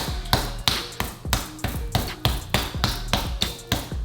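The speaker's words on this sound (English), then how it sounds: "I don't have like a meat hammer, so I just punch it." A fist punches raw meat to tenderize it, about ten dull, evenly spaced thuds in a quick steady rhythm, close and fairly loud with no talking.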